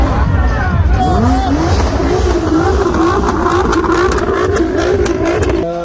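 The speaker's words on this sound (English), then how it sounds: "We got Armatrix exhaust on the back of this thing, so it sounds mean." A Nissan GT-R with an Armytrix exhaust rumbles loudly and steadily nearby, its engine note gliding up and settling into a sustained drone, with faint clicks layered on top.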